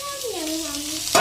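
Finely chopped drumstick leaves fry in a pan for an egg scramble, a brief close sizzle with stirring, under a sliding whine-like tone and ending in a louder scrape.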